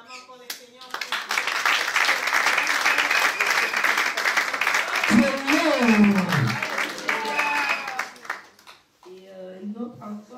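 Audience applause and cheering fill a Paris evening event, a dense steady wash of clapping held loud for about nine seconds, with voices talking and shouting over it before it drops away and speech resumes.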